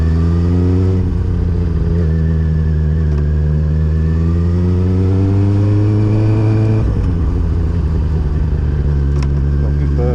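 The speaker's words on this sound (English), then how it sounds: "Got a good burble on it." A Kawasaki ZX6-R motorcycle engine idles and burbles loudly up close, a deep steady throb with a gentle rise in revs and a brief dip partway through.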